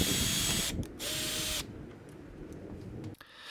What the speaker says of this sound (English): go ahead and drill out the first hole